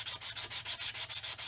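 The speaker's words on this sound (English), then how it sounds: "I'm sanding the ends" Plastic parts from a 1/48 scale fuel tanker model kit being sanded at the ends, a steady back-and-forth rasp in about eight even strokes, close and fairly quiet with no talking.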